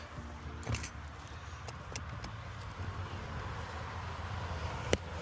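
A bunch of keys jangles in a few brief, scattered metallic clinks over a steady low hum, ending in one sharper clink.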